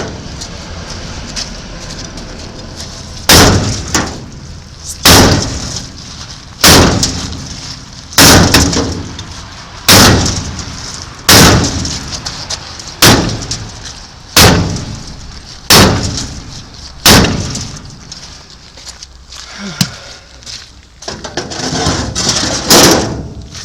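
A hammer strikes a stuck 1966 Ford Mustang brake drum again and again, about a dozen loud clanging blows at a steady pace with short pauses between, ringing briefly after each hit.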